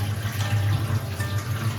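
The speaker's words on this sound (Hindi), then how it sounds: "ऊपर का पानी इनका हटा लेंगे" Water sloshes and pours steadily as it is taken out of a small fish bowl, a continuous close watery gurgle with no talking.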